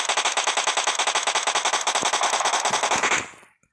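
Automatic rifle fire in the mobile battle royale game PUBG Mobile, a long rapid burst of evenly spaced shots that is loud and close, lasting about three seconds before cutting off.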